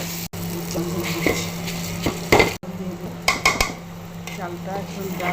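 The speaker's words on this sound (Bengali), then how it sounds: "চালটা এখন ডাল আর চাল একসাথে ভাজা ভাজা করবো।" Lentils and rice fry together in a pan, a steady sizzle punctuated by clinks and scrapes of a metal utensil against the pan, several sharper clatters mid-way, close and moderately loud.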